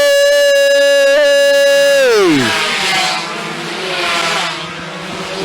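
Racing motorcycles speed past at close range on a Sulawesi circuit, one loud engine whining high then dropping sharply in a Doppler sweep, followed by a blur of further engine roar fading and swelling.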